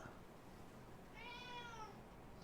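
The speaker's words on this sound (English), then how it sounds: "Can you hear the cat?" A cat meows once indoors, faint and drawn out, in a quiet room with no talk during the call.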